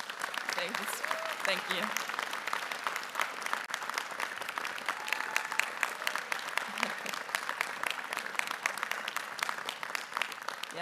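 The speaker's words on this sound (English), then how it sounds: "that applause for my mom" A large commencement audience applauds steadily at a university graduation ceremony, dense, continuous clapping that fills the space, with a speaker's voice briefly over it.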